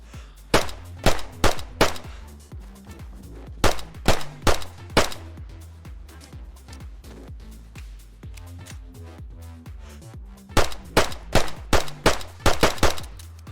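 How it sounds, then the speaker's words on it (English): Pistol shots from a P1 handgun in the survival video game DayZ, fired in quick bursts of sharp, loud cracks with a ringing metallic tail, grouped at the start and again near the end. "They have added in the P1 pistol."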